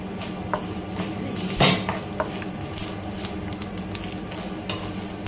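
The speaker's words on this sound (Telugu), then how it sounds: "సో ఇవి కూడా వేసుకొని కొంచెం ఫ్రై చేసుకోవాలి" Salted chillies frying in a pan make a steady, close sizzle, with a brief louder burst of crackle as they are stirred and a few light clinks of utensil against the pan.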